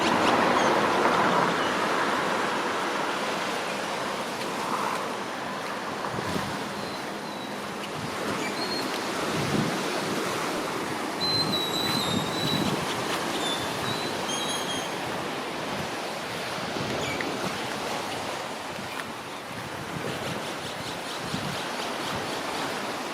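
Steady wash of ocean surf rolls onto a quiet beach in Mazatlan, a continuous broadband roar with gentle swells and some wind, no voices.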